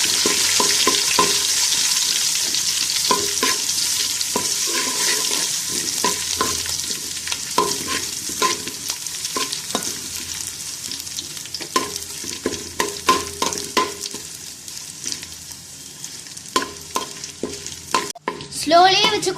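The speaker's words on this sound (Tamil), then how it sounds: "கரிஞ்சிராம பார்த்து வறுத்துக்கணும் நம்ம இதை." Cashews frying in a pan for pongal, a steady loud sizzle broken by repeated scraping stirs throughout, with a clattering knock of the spoon near the end.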